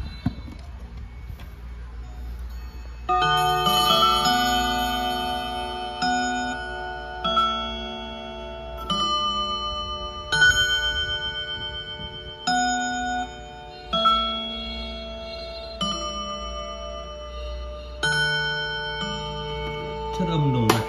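A wall clock from a bank liquidation sale strikes its chime, ringing resonant bell-like tones in a slow sequence of repeated notes, each swelling and fading with a long sustained ring, close and clear.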